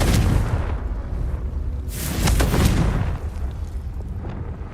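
A Confringo blast spell in Hogwarts Legacy bursts into a rumbling explosion amid continuous booming game effects, with a second loud surge midway before the rumble fades slightly.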